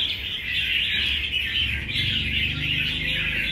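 A caged fighting magpie robin in cage 381 sings a steady, bright run of chirps and warbles, loud and close, with no talk over it.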